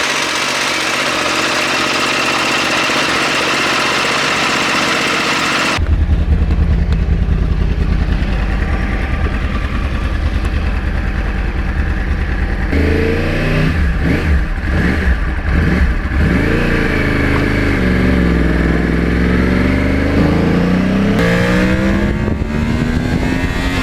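A 2009 Yamaha R1 crossplane sport bike engine starts with a low steady idle, then is revved in rising and falling bursts that grow louder and rougher, close and alone.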